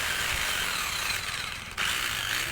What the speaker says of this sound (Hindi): ये देखिए दोस्तों हमारी ड्रिल बढ़िया से चल रही है